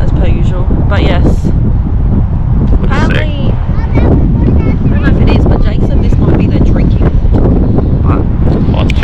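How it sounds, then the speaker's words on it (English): Strong wind at a lake in Mount Gambier, South Australia, blasting loudly and continuously across the microphone in heavy gusts while a person talks over it. "Because it's windy, as per usual."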